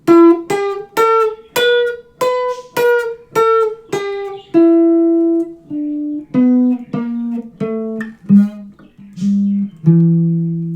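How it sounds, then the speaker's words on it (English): Plucked single notes climb and then descend in a blues scale with an added blue note between the fourth and fifth, a clear, close instrument playing alone with an even, deliberate rhythm. "that note between the fourth and the fifth is the blue note"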